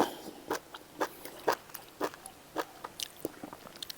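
Crunchy bites and chewing of crisp food, eaten with a spicy jaew dipping sauce, come as a steady run of sharp close crunches about every half second, loud and alone with no talking.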